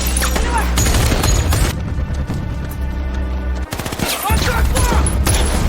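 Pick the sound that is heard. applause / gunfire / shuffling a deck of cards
gunfire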